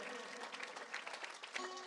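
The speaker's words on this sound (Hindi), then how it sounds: "बोलिए सदगुरुदेव भगवान की जरा जोरदार तालियों की गड़गड़ाहट से" A crowd at a Hindu religious discourse on the Sudama story claps steadily, a dense and continuous round of applause heard from within the audience, with no talking.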